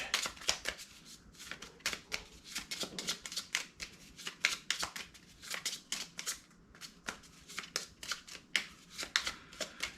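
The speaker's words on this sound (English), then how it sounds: "Okay, we're shuffling this deck." A deck of cards for a Ju 87 Stuka Ace board game set during a 1938 Spain campaign being shuffled, with a long run of rapid, crisp card flicks and riffles, close and steady with no talking.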